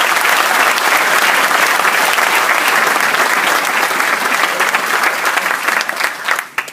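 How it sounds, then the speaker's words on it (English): A large commencement audience at The Boys' Latin School of Maryland applauds its graduates loudly and continuously, a thick roar of clapping hands that thins and tapers off near the end. "Join me in applauding them."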